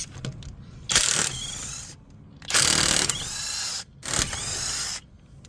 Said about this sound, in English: let's go ahead and grab a 19 millimeter. Bust these lug nuts off real quick